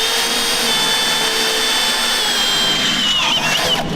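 A cutting tool slices through the cross member of a Chevrolet Blazer, a loud, steady grinding whine that holds close and continuous throughout, with a rising squeal near the end and no speech.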